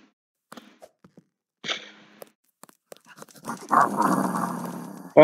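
Dog growling in the Roblox game Escape The Petshop Obby, a few faint clicks and a short snarl giving way to a louder, rough, sustained growl near the end.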